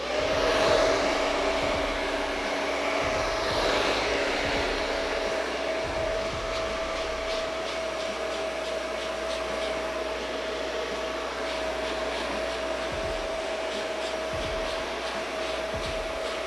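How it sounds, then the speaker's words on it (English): A blow dryer runs loud and steady throughout, drying hair during a drop skin fade haircut with a short fringe, its whine constant with faint scissor and comb clicks underneath. "Try not to stop your blow dryer. Try to keep always having it moving."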